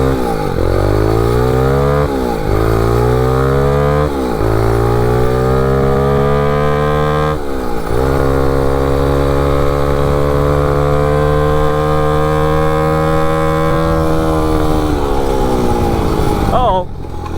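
A MotoVox minibike fitted with a 200cc dirt bike engine runs loudly and steadily, its revs rising and dipping in repeated blips early on before settling into a sustained, buzzing drone.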